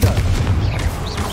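A spell explosion in the video game Hogwarts Legacy gives loud, booming blasts with rumbling low impacts in quick succession, with a faint voice in the background.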